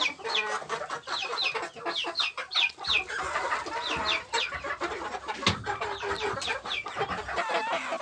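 Several hens cluck and squawk close by in a busy, overlapping chorus, with occasional rustling and thumps from the enclosure.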